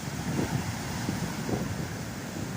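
Stiff southwesterly wind blowing across a North Norfolk beach, a steady roaring rush buffeting the microphone with low gusty rumbles and faint surf beneath, no voices.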